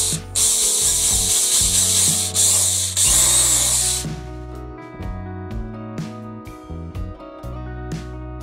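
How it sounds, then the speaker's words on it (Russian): A power drill whirs loudly as it bores through a pencil for about four seconds, then stops and leaves a series of lighter mechanical clicks and ticks. "Я возьму дрель и просверлю карандаш просто насквозь."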